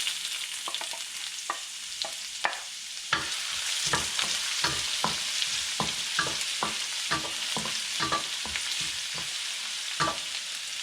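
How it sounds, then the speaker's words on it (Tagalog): Chopped ginger sautéing in a hot pan at the start of cooking Filipino bopis, a steady close sizzle with repeated sharp clacks and scrapes of a utensil stirring the pan. "So, manggigisa na tayo."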